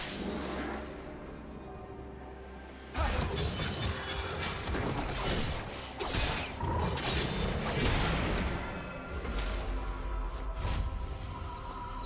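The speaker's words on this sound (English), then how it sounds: "Red team's turret has been destroyed." A League of Legends turret is destroyed with a loud crumbling crash and shattering debris after a quieter mechanical hum, followed by rumbling collapse and scattered impacts.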